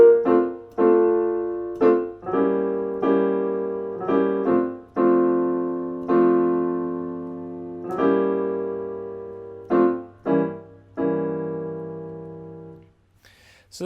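Piano melody harmonized in block chords in a George Shearing style, with quick chromatic grace notes slipping in underneath. The chords are struck one at a time in an unhurried phrase and each one rings out before the next.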